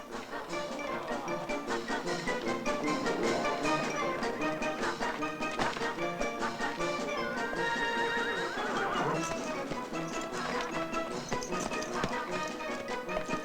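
Several horses whinny shrilly over a continuous clatter of hooves as riders hurriedly mount up in an old spaghetti western, a dense, busy mix that stays loud throughout.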